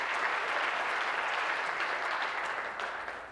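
Steady, dense applause from members in a parliamentary chamber during question period, loud and sustained, fading slightly at the end.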